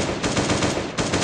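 Rapid, loud automatic AK rifle fire in the survival game Last Day on Earth, a continuous close burst with a brief gap near the end.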